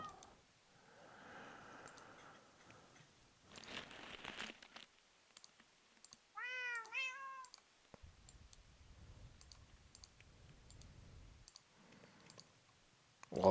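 Cats meow in Minecraft with a short burst of rising, harmonic-rich calls near the middle, set among soft clicking and shuffling game sounds, fairly faint overall.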